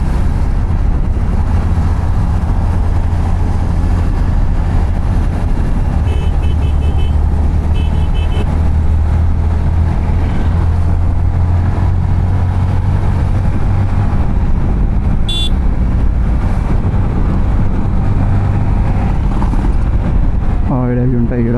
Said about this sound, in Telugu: గుంటూరు టు హైదరాబాద్ హైవే కాబట్టి ఇప్పుడు మీ వచ్చే లొకేషన్ నుంచి చాలా వెహికల్స్ అయితే వస్తాయి, కార్లు అయితే వస్తాయి